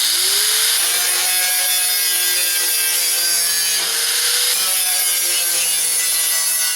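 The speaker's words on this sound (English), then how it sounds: "I'm going to hit it with this grinder lightly" A grinder runs lightly over pitted, rusty sheet metal on a repair patch: a loud, continuous, close abrasive hiss and whine, held steady throughout with slight changes in pitch as the pressure shifts.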